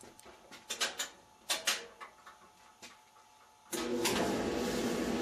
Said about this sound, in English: Connect the dryer to the wall outlet and try it out to see how it works now.